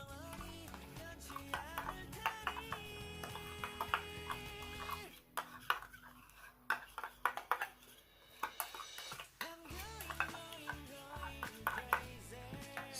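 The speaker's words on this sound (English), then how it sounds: "we are going to keep stirring" A utensil stirs a homemade pink lip balm mixture in a bowl, giving quiet irregular clinks and scrapes, with a short pause midway before the stirring resumes.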